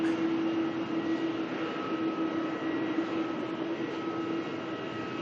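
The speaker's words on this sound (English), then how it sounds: "Qantas 330 here, taxiing on down to depart very soon." A Qantas A330 airliner taxis at Melbourne airport, producing a steady, moderately loud jet engine whine and broadband roar that holds constant throughout, with no talk.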